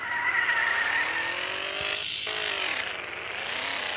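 In the off-road driving game Offroad Outlaws, a bike engine drones continuously with a high tire-squeal whine over it, loud and unbroken, with a brief dip midway.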